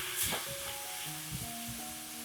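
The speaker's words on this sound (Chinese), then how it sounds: "鍋中加入煎大蝦的油，先把2/3的蒜蓉放下去炒香。" Minced garlic sizzles in oil in a wok, a steady close frying hiss with occasional scraping stirs from a spatula, no voices.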